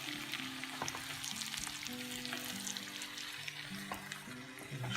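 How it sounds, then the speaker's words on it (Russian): Potatoes fry with onion and garlic in a pan, giving a continuous dense sizzle with scattered crackles and pops, close and fairly loud throughout, with a faint low tonal hum underneath. "И даем прожариться еще минутку."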